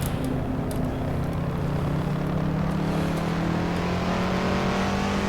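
Race car engine in Assetto Corsa on Castrol Raceway, a steady droning roar with a slowly rising pitch as the car accelerates, loud and continuous throughout with no voices.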